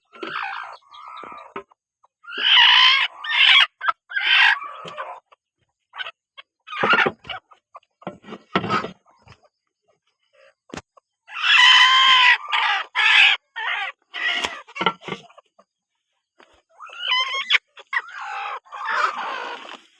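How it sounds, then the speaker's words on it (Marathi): Hens brooding on clutches of eggs at a free-range poultry farm in Tasgaon, Satara, cluck and call in repeated close, loud bursts separated by short pauses, with no talking. "अशा आपण एकूण चार ते पाच कोंबड्या बसवलेल्या आहेत"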